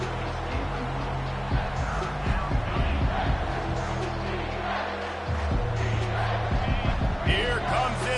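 Home crowd roars at a Texas A&M versus South Carolina football game on third down, a dense, swelling stadium noise with a commentator talking over it.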